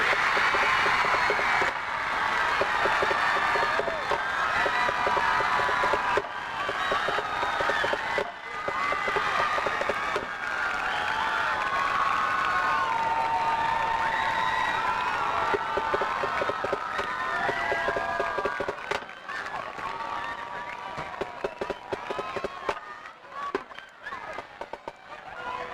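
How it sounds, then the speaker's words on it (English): A stadium crowd at a 2019 high school homecoming football game claps and cheers for the homecoming court, a dense sustained roar of applause lasting throughout with a slight easing near the end. "one more round of applause for your 2019 homecoming court"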